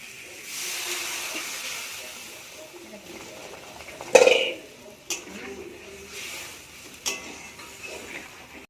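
Water that was used to rinse the spice jar is poured into a pan of fried spice paste while cooking a tilapia curry, giving a broad steady hiss with a sharp sizzling burst and a few clinks of utensils on the pan.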